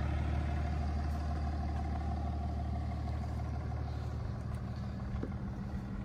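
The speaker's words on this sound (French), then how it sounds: "histoire d'entendre un peu plus le 6 cylindres" A BMW E39 525d six-cylinder diesel with a straight pipe in place of the rear silencier idles with a steady, low, rumbling drone, loud and continuous throughout.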